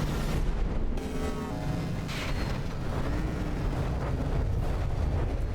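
Heavy cram cannons fire in From the Depths as battleships duel, a dense, continuous rumble of booming impacts and blasts with no clear gaps, loud and sustained throughout.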